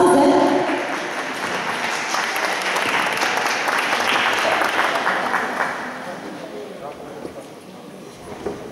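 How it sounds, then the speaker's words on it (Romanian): Applause from spectators at a sports competition, a dense wash of clapping that starts loud and fades gradually, with voices talking over it. "Aplauze!"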